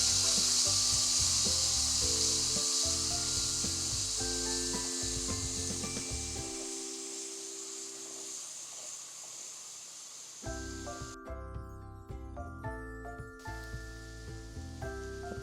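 Garlic paste and turmeric stirred in a pan for a sweet garlic pickle, a close scraping and rubbing with soft sizzle that pauses midway, then resumes with steady clatter, no talking.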